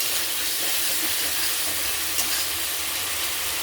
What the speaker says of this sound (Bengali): এখন আমি আলুগুলো দিয়ে দিব। আলুগুলো একটু মশলার সঙ্গে ভেজে নেব।